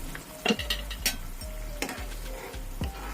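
Pangasius fish curry gravy bubbles in a pan, a steady close sizzle broken by clinks and scrapes of a spoon against the metal pan.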